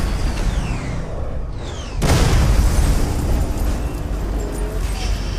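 A film scene of gunfire from Salaar: a sudden heavy boom followed by a sustained loud roar of shots and blast noise, with people talking over it.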